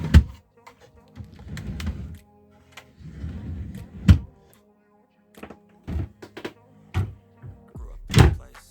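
Storage compartments and drawers in a Rapido Nautilus camper van are handled, giving a series of sharp knocks and thunks with faint creaks, close and intermittent, with brief stretches of rustling between them.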